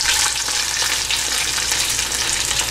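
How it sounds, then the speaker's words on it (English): Chicken kola balls fry in hot oil with a loud, close, continuous sizzle that holds steady throughout, with no voices. "Make a ball like this and put it into the oil."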